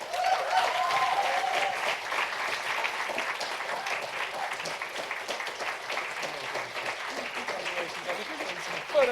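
Sustained audience applause welcoming award winner Marsha Botzer at the 2015 Secular Student Alliance Backbone award ceremony, steady dense clapping from a crowd lasting several seconds at even loudness, with faint cheers early on.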